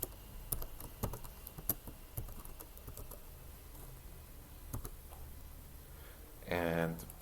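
Keys clatter in irregular bursts as text is typed on a computer keyboard, quiet and close, with a brief louder buzzing noise near the end.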